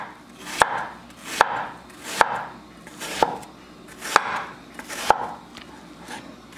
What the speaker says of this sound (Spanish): Partimos en 3 y vamos a sacar rodajitas delgadas.